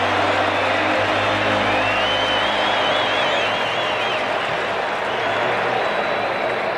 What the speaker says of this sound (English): He'll get a nice round of applause.